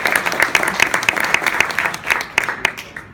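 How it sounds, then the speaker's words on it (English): An audience at a CAMP installation speech claps for Casey, a crowd of individual hands with sharp distinct claps, fairly close, the applause thinning toward the end. "Give him a round of applause."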